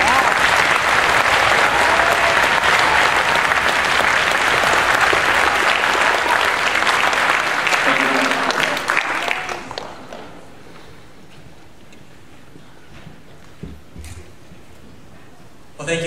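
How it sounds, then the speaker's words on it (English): Audience at a music education association event applauding students, a loud, sustained ovation of many hands for about nine seconds that cuts off abruptly into a quiet room with faint rustles and a brief voice. "Let's give them a round of applause."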